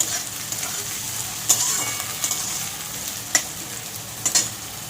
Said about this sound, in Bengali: উচ্ছেটা বেশ অনেকটাই ভাজা হয়ে গেছে।